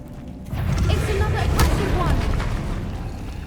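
A Confringo fire spell from Hogwarts Legacy explodes with a sudden loud, broadband blast, then rumbles and crackles steadily, with a sharper flare partway through.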